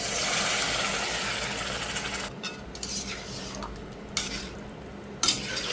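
Lote fish curry stirred gently in a pan, a steady sizzle and soft scraping of a utensil against the metal, with a few sharper clinks toward the end, no talking.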